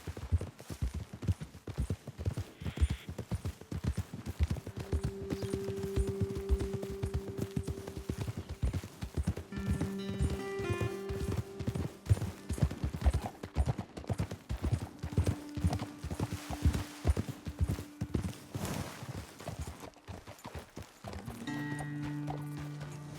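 Horse hooves clip-clop steadily in Red Dead Redemption 2 as riders travel up a trail, the rhythmic hoofbeats close and continuous, with brief game voices and tonal sounds mixed in.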